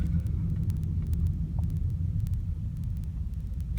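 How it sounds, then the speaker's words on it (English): Steady low road rumble and tyre hum from inside a 2011 Mercedes-Benz E350 Estate wagon cruising smoothly, continuous and even with faint ticks above, no talking. "The car just goes down the road beautifully smooth, no issues at all."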